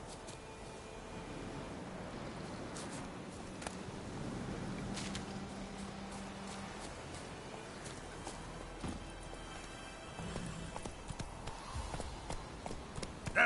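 Roach, a horse in the video game Witcher 3, runs with faint, quick hoofbeats over a low ambient backdrop that stays soft and continuous.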